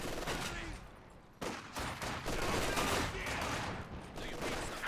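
An MG42 machine gun in the Company of Heroes 2 strategy game fires in dense bursts amid a wider battle din of gunfire and explosions, a loud, continuous crackling mix with occasional game voice lines underneath.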